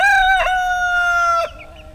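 A farmyard rooster crows once, loud and close, a single drawn-out call that cuts off sharply, followed by a brief softer cluck.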